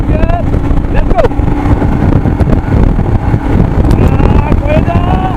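A Royal Enfield Himalayan 411 motorcycle accelerates on the road, its engine note rising and dropping repeatedly as it shifts up through the gears. Heavy wind rush largely buries the engine, and a rider's voice talks over it.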